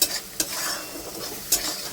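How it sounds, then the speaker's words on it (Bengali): Bengali poppy seed paste with turmeric, salt and sugar, tempered with chili and nigella seeds, fries in oil. A soft sizzle is broken by three distinct scraping stirs of a spatula, with no voices. "এবার আমি মশলাটাকে ভালো করে কষিয়ে নেব"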